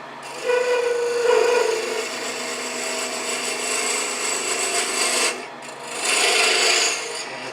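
A parting tool cuts into a spinning wooden bowl on a lathe, a steady close rasping scrape with a brief louder bite near the start and another surge after a short pause, no speech.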